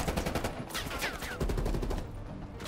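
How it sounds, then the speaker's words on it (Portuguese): Rapid gunfire in the video game Call of Duty Cold War, with dense repeated shots crackling steadily throughout at moderate volume and no talk. "O cara fica me atirando"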